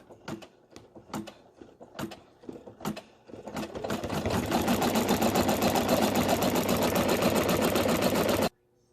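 A sewing machine runs a dense satin stitch over a pink fabric applique for a fascinator hat. A few separate clicks and short bursts come first, then a steady rapid whirring stitch up close that stops abruptly.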